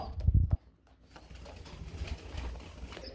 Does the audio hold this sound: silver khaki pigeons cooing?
yes